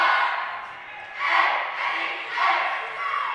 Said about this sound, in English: The cheer team of Niles North making their presence felt.